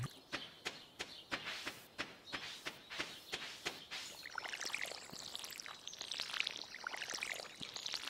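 Watering can pouring in the Stardew Valley farming game: a run of evenly spaced footstep-like taps gives way to a steady splashing, trickling pour that fills the second half, with no talk.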